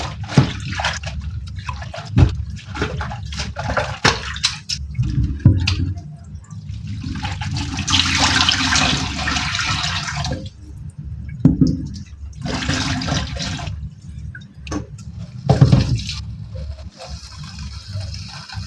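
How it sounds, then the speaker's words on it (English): Water runs and splashes while a sufuria cooking pot is rinsed, bursts of broadband flow coming and going over about nineteen seconds, fairly close with faint clatter in between. "So I'm rewashing this sufuria."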